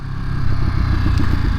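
A 2023 Ducati Monster SP motorcycle runs close by, its engine throbbing in a steady, pulsing mechanical rhythm for a short moment.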